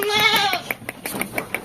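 A goat bleats once in a drawn-out, wavering call at a busy goat market, followed by a run of short clicks and knocks close by.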